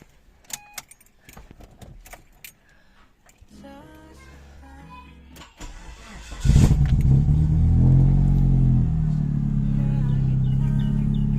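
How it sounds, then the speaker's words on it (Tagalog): A cold Ford Lynx engine is started after keys jangle and clicks, then catches with a loud rumble and settles into a steady idle with rising revs. "Malamig pa tong makina. Paanda na natin."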